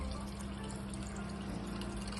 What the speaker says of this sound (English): We're going to add some hot water and top it up